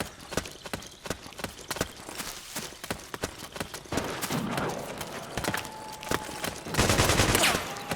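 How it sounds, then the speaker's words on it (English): Video game gunfire from Metal Gear Solid 4, a South America battle scene: rapid, loud bursts of automatic fire and sharp shots that grow denser and heavier toward the end, mixed with other clattering battlefield effects. "Suppressing fire! Suppressing fire!"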